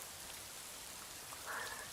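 Steady rain falling in the video game Rising World, a soft, even hiss of drops on surfaces that swells slightly toward the end, with no voices.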